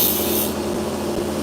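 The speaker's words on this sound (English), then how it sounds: "This part of the sandpaper happens to be a little bit rougher" Sandpaper rubs steadily against an opal being polished, a continuous close, soft rasping scrape, louder and hissier at the very start, then even and quiet to the end.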